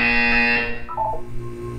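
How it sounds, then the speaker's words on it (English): A loud, steady electronic buzzer tone with bright harmonics from the video game Portal 2 holds for about half a second, then fades into a lower, wavering synthetic hum. "You will hear a buzzer."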